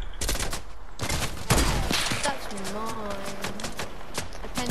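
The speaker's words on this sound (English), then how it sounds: "Guys, they're shooting at me heavily. Heavy shots." Heavy gunfire in a Fortnite match, rapid repeated shots cracking in close succession throughout, with a player talking over the shooting.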